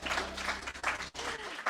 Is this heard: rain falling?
no